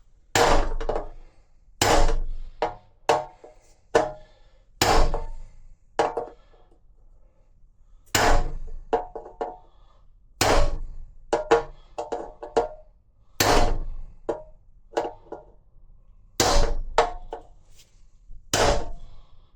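Big hammer blows on a dulled wide-head cold chisel against a 1932 Ford firewall, a series of loud, sharp metallic clangs in irregular clusters, close by, with short pauses between groups of strikes.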